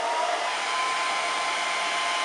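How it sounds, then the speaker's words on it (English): A small personal heating fan blows steadily on a nail shield, a constant close whooshing hum of air with an even, unbroken level throughout. "some people have those little personal tiny heating fans"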